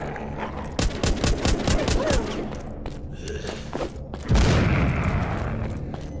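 Grenade explosions and gunfire in Walking Zombies 2 on Xbox One: a rapid string of loud cracking shots, then a heavy booming blast that rumbles and fades.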